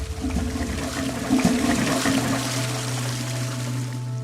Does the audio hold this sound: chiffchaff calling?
no